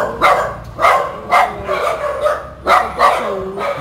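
Several rescued dogs bark repeatedly in close, loud, uneven bursts, some yelps rising into whimpers, with no one talking over them.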